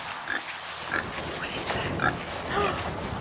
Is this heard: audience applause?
no